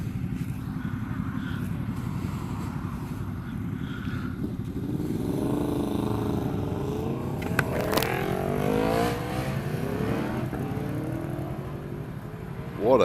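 A motorcycle engine rumbles nearby and rises in pitch as it accelerates past, with a car-like drone underneath; no one speaks.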